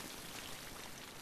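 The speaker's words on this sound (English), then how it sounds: "Mortimer, Oh, it's raining again." Rain falls steadily in a soft, even hiss of drops for a brief moment, faint and without any voices.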